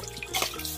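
Water poured from a vessel over hands for washing at an outdoor meal, a brief close splashing trickle under a second of faint background noise.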